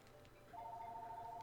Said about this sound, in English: My phone's ringing. I hope you can hear it in the background.